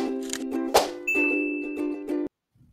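A notification bell chimes: a bright metallic ding rings clearly over a layered clanging sound effect, then cuts off abruptly.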